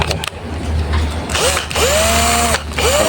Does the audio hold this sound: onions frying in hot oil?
no